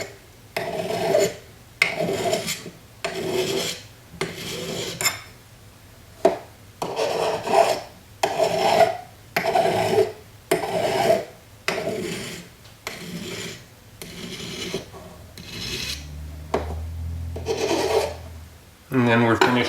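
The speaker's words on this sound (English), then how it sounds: "Let's first go along all the edges with a file." A metal hand file rasps along the edges of a small Bat'leth pin held in grips, in repeated steady strokes about a second long with brief pauses between, close and fairly loud.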